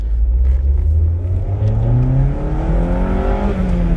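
A car engine revs close up, its pitch climbing steadily through one long rise over a constant low rumble, loud and alone with no talk.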